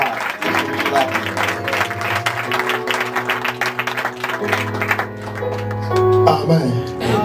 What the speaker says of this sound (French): clap your hand for God